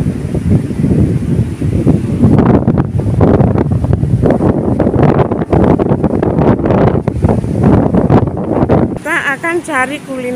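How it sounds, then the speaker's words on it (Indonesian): Large ocean waves breaking on Kafiar beach in Amban, with a steady roar of surf and heavy wind buffeting the microphone throughout; the wind blasts briefly ease near the end. "Dan pantainya dengan ombak yang sangat besar."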